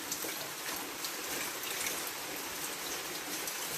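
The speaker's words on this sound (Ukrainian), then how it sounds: "Гарний дощик, гарний, хай йде добре намочу землю" Steady rain falls on a small village with a soft, even hiss of drops pattering on surfaces, quiet and unbroken.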